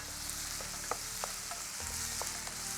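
Chopped onions sauté in a pan for a simple millet side dish, giving a soft continuous sizzle with a few light scrapes of stirring, close and without speech.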